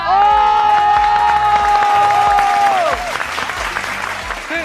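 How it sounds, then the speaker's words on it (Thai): Loud applause from a television game show audience fills the whole stretch, with a sustained tone over it in the first part, then clapping continuing on its own. "ขอเสียงประมือให้กับหนูเดียวบอยและปลั๊กไป"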